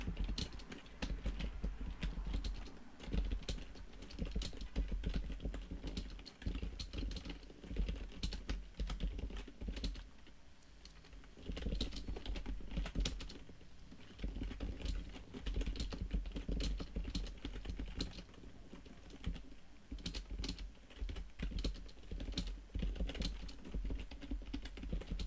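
Typing on a computer keyboard while titling games in Total War Warhammer 3, a steady stream of close, clicky keystrokes in irregular bursts with short pauses, running throughout.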